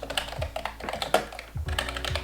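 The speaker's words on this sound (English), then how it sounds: "I know a lot of people are annoyed by that type of clackety" Fast typing on a clacky Amazon keyboard, a steady run of sharp, close keystrokes with a brief pause partway through, heard alone.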